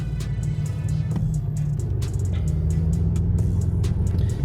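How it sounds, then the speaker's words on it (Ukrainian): A BMW M8 drives along a road toward a border, a steady low engine drone and road roar filling the cabin, constant and close with no talking. "Тачку включили і погнав я ще."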